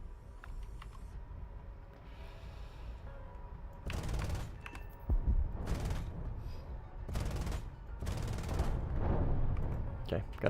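Aircraft guns fire in several loud, rapid bursts during a dogfight in War Thunder simulator battles, sharp rattling volleys over a steady engine drone, with a voice talking in between.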